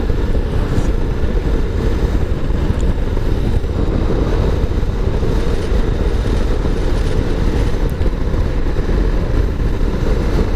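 KTM 1290 Super Adventure motorcycle ridden on an open road, a steady loud engine drone mixed with heavy wind rush throughout, with no voices.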